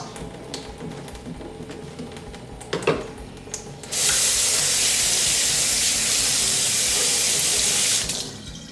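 Tap water gushes steadily into a sink while a dense Morphe M439 makeup brush is wetted under it, a loud continuous rush that starts abruptly after some quieter handling clatter and stops near the end.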